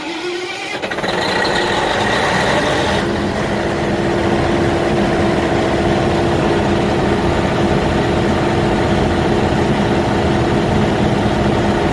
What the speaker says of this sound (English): so it's starting the engine now